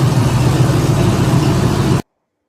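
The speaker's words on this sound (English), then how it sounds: "Really strong running little engine." A muscle car engine with a mild cam, 323 engine, open rear end and C4 automatic transmission runs with a loud, steady low rumble that cuts off abruptly.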